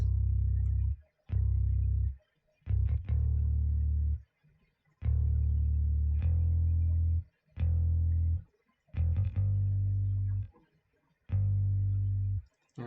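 Clean Rickenbacker electric bass plays a repeating pattern of deep sustained notes separated by short gaps, close and unaccompanied.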